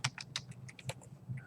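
Typing on a computer keyboard, with a rapid, uneven patter of close key clicks over a faint low background hum.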